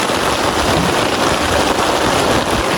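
Dense, steady downpour pattering loudly on a tent high on Ballahalagala mountain, an unbroken close hiss of rain with no talking and no pauses.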